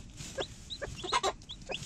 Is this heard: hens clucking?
yes